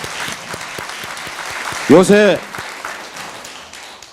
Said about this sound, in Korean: 박수 한번 크게 보내주세요